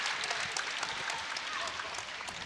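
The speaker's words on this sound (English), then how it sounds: "Judging by the cheers of the crowd" Applause and cheering from a crowd fill the space after a group performance at a gymnastics world championship in Shanghai, a dense, steady clatter of clapping that continues evenly throughout.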